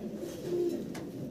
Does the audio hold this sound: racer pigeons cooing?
yes